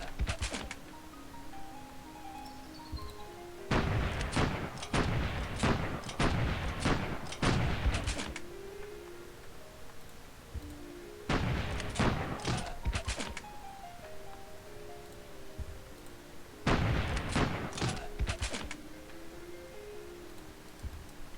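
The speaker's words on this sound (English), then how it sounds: "They also have artillery." Artillery fire in Civilization III, set in a World War 2 Germany campaign: three loud bursts of rapid booming shots, each roughly three to four seconds long, separated by quieter game background sounds with faint tonal music.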